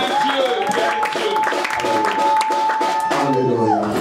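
A church congregation claps and cries out in acclamation to God over sustained singing and music, a dense, steady wash of hand claps and voices throughout.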